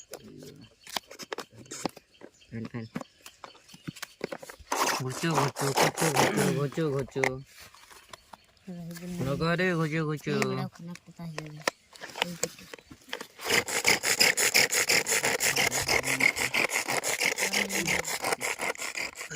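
Mango is ground to a paste by hand without an electric mixer, giving bursts of rough rubbing and scraping strokes separated by pauses. Voices talk briefly in between.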